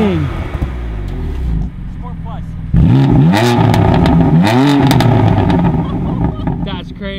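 A BMW M4 CS engine revs up close, with a rough idle followed by loud, sweeping throttle blips that rise and fall several times, and voices talking underneath.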